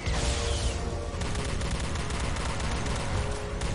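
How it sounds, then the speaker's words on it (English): A phaser rifle fires in the Star Trek Elite Force 2 video game, a dense, loud, continuous burst of energy-weapon fire sustained for several seconds with no speech. "I like this phaser rifle, actually."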